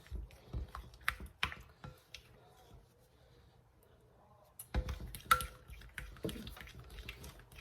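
Yellow coloring is stirred into melted chocolate, giving soft scraping and tapping clicks in quick bursts that stop for a quiet stretch, then return more loudly.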